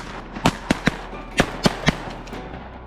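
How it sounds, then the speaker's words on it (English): Shotguns fire at mallard ducks on a remote mountain river during a duck hunt: six sharp, loud bangs in two quick groups of three, with a faint outdoor background between them. "It's shooting time."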